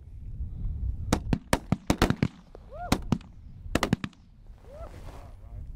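Shotgun blasts ring out during a duck and goose hunt in Alberta, a rapid volley of about a dozen sharp, loud reports packed into a few seconds, with birds calling between the shots.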